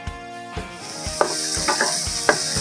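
Onion sizzles and crackles in hot cooking oil for Filipino adobong kangkong, a steady frying hiss with several sharp spatter pops and stirring clinks, close and alone with no talk.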